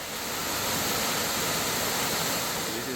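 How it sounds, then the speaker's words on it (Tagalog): A waterfall at Camp Awol adventure park roars as a dense, even rush of falling water, close and constant with no voices. "So ito yung falls dito mga bay."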